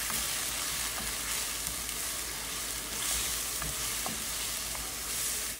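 Tomatoes, water and spices stir-fried in a pan, a dense, loud, continuous sizzle with rhythmic stirring scrapes throughout, no talking.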